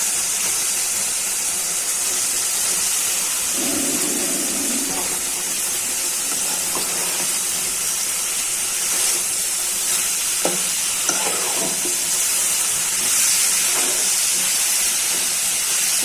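Ground spinach paste frying with spices in a pan gives a continuous close sizzle and steamy hiss, with a few soft stirring scrapes surfacing now and then.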